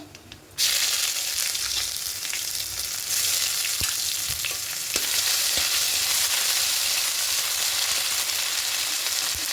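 Ginger and green chili paste sizzles loudly in hot oil, a sudden burst of frying that stays steady and close, with a few clinks of stirring and no talking.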